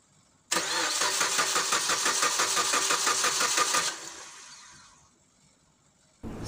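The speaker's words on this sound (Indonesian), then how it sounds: "sebelum dihidupkan saya akan coba starter, namun kabel koil belum saya pasang ya." A Suzuki Swift engine cranks on its starter with the coil cable disconnected, a steady rhythmic churning for about three and a half seconds that never catches, then a fading whine.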